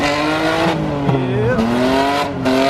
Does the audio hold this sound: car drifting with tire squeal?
yes